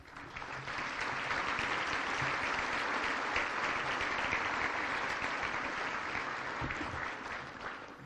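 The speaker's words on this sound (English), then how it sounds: "Listen to this crowd as Jack Hoffman just scored a touchdown." At a charity gala, a large indoor crowd breaks into sustained applause and cheering for a touchdown, swelling quickly and holding loud and dense before easing slightly at the end.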